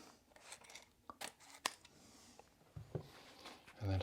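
Scissors snip through wallpaper in a few short, crisp cuts spaced irregularly, with light paper rustling between them, fairly faint and close in a quiet room with no one talking.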